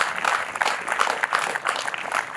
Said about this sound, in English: Round of applause for Paul, please